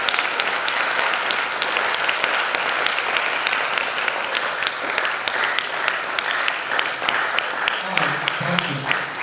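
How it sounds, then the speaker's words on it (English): Audience applause at a goal-setting seminar, dense steady clapping from a crowd filling the whole stretch, with a voice talking under it near the end. "I said you should clap for yourself"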